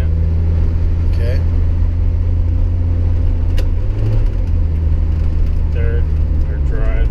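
A Jeep Wrangler SE engine runs through first and second gear as a low, steady drone with a slight shift in pitch partway through, while someone talks over it.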